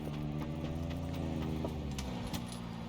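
Car in the battle royale game PUBG driving nearby, a steady engine drone with low harmonic bands rising and falling in pitch, heard alone without talk.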